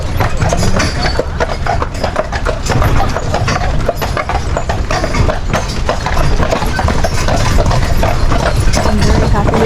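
Horses hauling a tour carriage up a steep climb in Stanley Park, Vancouver, their hooves clip-clopping steadily over a loud, dense background of rumbling wheels and road noise, with voices mixed in.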